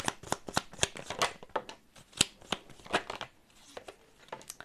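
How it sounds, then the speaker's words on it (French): A deck of tarot cards is shuffled close by in quick riffles and crisp slaps, rhythmic bursts separated by short pauses, with no talking. "Je vais essayer de tirer 3 cartes si elles valent bien."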